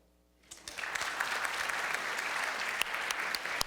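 A science-festival crowd breaks into applause after a brief hush, steady massed clapping with crisp individual claps popping out until the end.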